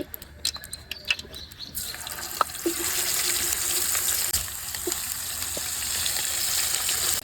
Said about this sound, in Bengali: তো এবার গরম তেলে দিয়ে দিচ্ছি